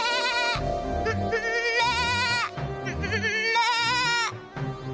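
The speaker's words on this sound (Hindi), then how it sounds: "तुम चाहे जितनी भी मिमिया लो" A goat shivering in the cold bleats in long wavering cries, several loud close calls in succession with brief gaps between them.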